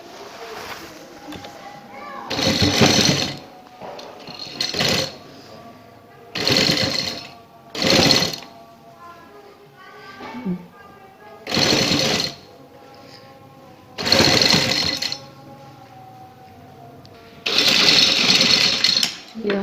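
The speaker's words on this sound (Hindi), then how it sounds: "इसी तरह इस तरफ भी सिलाई लगानी है" A sewing machine stitches lace onto a neck design in loud, close bursts of rapid mechanical whirring, each run lasting a second or two, with quieter gaps and someone speaking softly between them.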